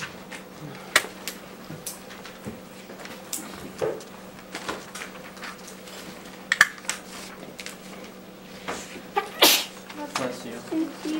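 One sharp sneeze stands out indoors in an office-like room, set against soft keyboard taps, small clicks and light handling noises, with brief voices nearby.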